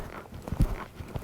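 Horse hooves at a canter, quick close rhythmic thuds of a few strides in a riding arena.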